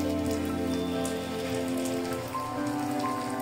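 Donut dough deep-frying in hot oil gives a steady, dense crackling sizzle throughout, fairly quiet and uninterrupted, with no talking.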